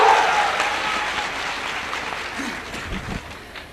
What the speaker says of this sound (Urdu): تالی بجاؤ